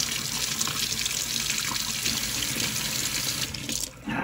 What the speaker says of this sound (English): Let's go rinse the solution off the gold button